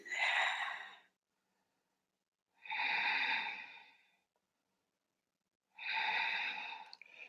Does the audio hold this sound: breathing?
yes